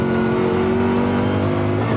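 A race car engine drones loud and close in third gear as the car leaves the last chicane of the GP track onto the Nürburgring Nordschleife, a steady, strained roar with a slowly rising pitch.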